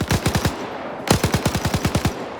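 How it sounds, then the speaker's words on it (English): An MG42 machine gun in a video game fires two rapid bursts, a short string of sharp, loud shots followed by a longer rattling volley after a brief pause, close and without voices. "This is the MG42 guy."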